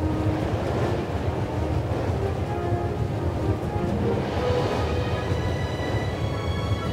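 A train rumbles steadily in The Raven video game, a continuous low, loud mechanical roar with rattling texture and no talking.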